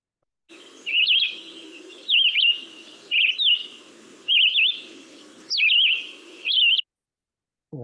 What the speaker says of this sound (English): let's listen to stable bird generation